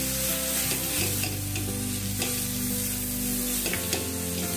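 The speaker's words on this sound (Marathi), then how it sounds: "मी ते पण त्याच्याबरोबर कांद्याबरोबर चांगले फ्राय होतील।" Onions frying in a pan with garam masala powder and ginger-garlic paste, a continuous close sizzle with occasional stirring scrapes and a steady low background hum.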